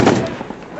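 A New Year's fireworks burst in Iraq lands as a loud close pop, then a scatter of fainter crackles and distant reports in quick succession.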